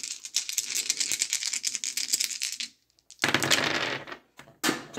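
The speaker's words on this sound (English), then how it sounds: "I gotta control myself rolling these dice" Dice rolled by hand for a Strat-O-Matic tabletop baseball replay, a dense clattering rattle for nearly three seconds, then a pause and two shorter bursts of tumbling clicks, close and fairly loud with no talk.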